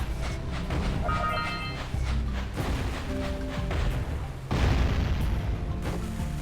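Gunfire aimed at the player in the Jak & Daxter video game: repeated booming, thudding shots over game ambience, with one heavier burst near the end.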